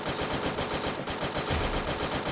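Rapid automatic gunfire in the mobile shooter Free Fire Max during a ranked match, a dense continuous burst of loud shots with no pauses and no talking.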